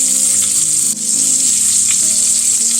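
Pork chops frying in a pan, a loud, steady, close sizzle of hot fat holding evenly throughout with a faint low hum beneath and no talking.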